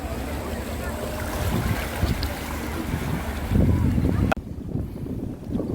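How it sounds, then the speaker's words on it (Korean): Cool wind blowing over seaside rocks beside a crowded beach, a steady loud rush of wind noise with surf-like roar, a sharp bump near the end, then a quieter windy stretch. "갯바위 위에는 시원한 바람이 불고 있습니다."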